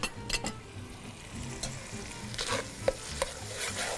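Goat trotters fry in a pot with turmeric, crushed red chilli and ground red chilli, a steady close sizzle broken by several sharp stirring scrapes and clinks of a spoon, with no voices.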